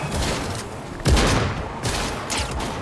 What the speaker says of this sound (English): No, I'm being sniped at as well!